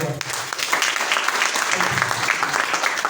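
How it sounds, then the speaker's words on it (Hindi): Audience applause at an RCM business training program in a hall, a steady dense wash of clapping lasting the whole moment, fairly loud and close, with no clear voices over it. "जोरदार ताली बजा दो"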